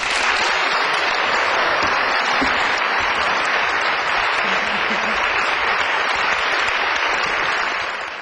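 A church testimony gathering greets its guest speaker with warm, sustained audience applause: dense, steady clapping from a large crowd that fills the whole stretch at full strength and fades slightly only at the very end.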